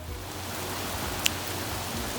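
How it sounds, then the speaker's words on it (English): Steady rain falls outside, a dense even hiss of drops with one brief sharper tap, heard alone without voices. "it was raining outside"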